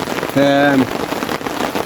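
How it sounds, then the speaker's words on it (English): Heavy rain drums steadily on a tent during a wild camping night, a dense close hiss throughout, with a brief tonal voice-like sound rising over it near the middle. "the rain has absolutely not let up at all"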